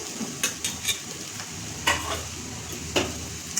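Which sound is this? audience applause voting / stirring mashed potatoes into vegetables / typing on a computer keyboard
stirring mashed potatoes into vegetables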